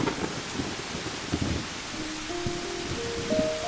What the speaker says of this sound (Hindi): तभी रिसेस में अचानक बहुत तेज बारिश आने लगी,